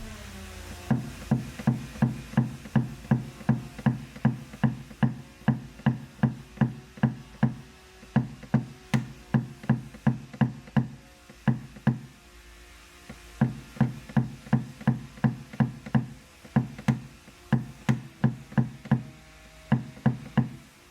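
Rapid tapping of a tool knocking down hail dents on a car body panel, sharp metallic knocks in quick regular bursts with short pauses between runs, close and clear with no talking.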